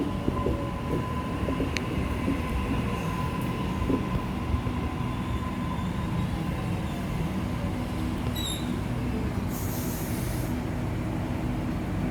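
At Normanhurst station a train rumbles steadily past, a constant loud roar of wheels and carriages with faint squeal tones riding above it. No one speaks.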